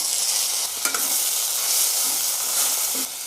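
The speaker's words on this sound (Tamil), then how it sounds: "கொத்தமல்லிலாம் வந்து நல்லா சுருங்கி வரணுங்க. கொஞ்சம் நேரம் வதக்கி விடலாம்." A handful of coriander leaves sautéing with onion and tomato in a pan, a steady soft sizzle with occasional stirring scrapes, close and continuous.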